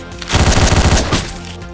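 Rapid shots burst out in Hotline Miami, a short, loud cluster of punchy blasts lasting under a second before fading.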